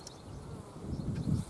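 Honeybees buzz around a hive fitted with a robber screen, a soft, close drone that swells louder toward the end.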